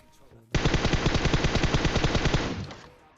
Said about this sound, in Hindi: अब यहाँ पे भले ही मैं 20 गोली चलाता हूँ